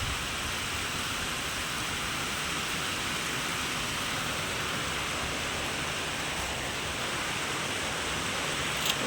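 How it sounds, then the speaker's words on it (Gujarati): Heavy rain pours steadily, a dense, even hiss of water that holds at one level from start to finish, with no voices; light monsoon rain onset. "અને અહીંયાથી તમે જોઈ શકો છો કેવો જોરદાર વરસાદ પડી રહ્યો છે"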